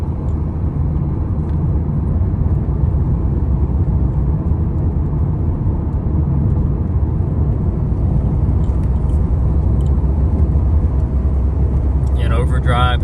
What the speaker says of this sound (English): In overdrive at about 45. That's full torque converter lockup.